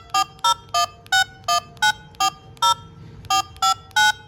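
Telephone keypad tones entering an ID number on a phone line, a sequence of about thirteen short, evenly spaced dual-tone beeps with a brief pause partway through, clear and close.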